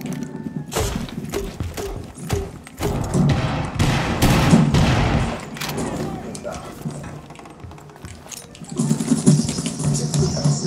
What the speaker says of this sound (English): You might hear a lot of explosions